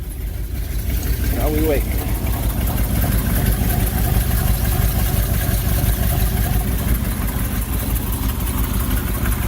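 A 1979 vehicle's engine idles steadily on choke while warming up, with a serious exhaust leak, a continuous low rumble close by throughout with a brief spoken remark early on.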